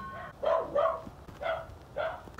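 A dog barks four times in quick, separate yaps, close by and fairly loud, outdoors during evening trick-or-treating for Christmas gifts.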